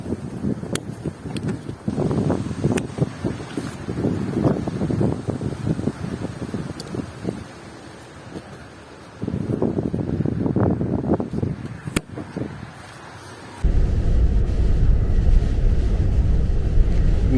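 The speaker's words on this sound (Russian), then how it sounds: "Непогода продолжает буйствовать. Жутчайший просто ветрище." Strong gusting wind in stormy, rainy weather buffets a car driving through Sweden near the sea, a steady rushing roar that swells and eases in waves, then turns to a louder, denser roar near the end.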